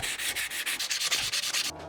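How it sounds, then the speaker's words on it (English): Rapid, rhythmic scratchy strokes of hand sanding on wood, about a dozen back-and-forth passes, close and steady, ending abruptly. "I love sanding."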